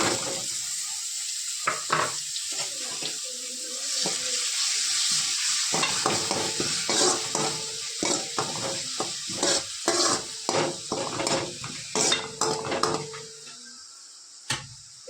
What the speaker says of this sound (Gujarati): પછી એમાં ઝીણી સમારેલી ડુંગળી નાખી દેશું